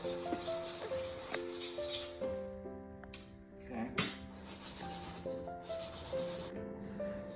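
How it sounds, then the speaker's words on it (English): An old plane blade from great-grandfather's woodworking tools has its back flattened by rubbing, giving a soft, steady scraping that runs continuously and is close and fairly quiet, with a few brighter strokes and tonal background music underneath. "I am gonna flatten the back of the blade"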